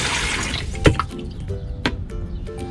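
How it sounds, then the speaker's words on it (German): Water emptied out of a camper van's water filter housing, a brief splashing pour with a few sharp drips and clunks of the plastic housing, close by with no talk. "Und dann vorsichtig das Wasser ausleeren."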